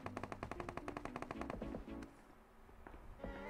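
Pistol fire in PUBG Mobile rings out as a rapid, evenly spaced string of about a dozen sharp shots over almost two seconds, then gives way to quieter game ambience with a few faint later pops.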